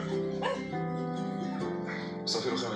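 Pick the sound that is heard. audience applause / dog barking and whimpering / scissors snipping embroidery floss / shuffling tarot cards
dog barking and whimpering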